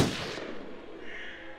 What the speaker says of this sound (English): Oh, I'm gonna shoot.